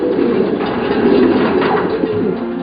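Racing pigeons in Taiwan coo steadily in their mating cages, a dense, loud overlapping murmur of low throaty calls filling the whole stretch with no talking.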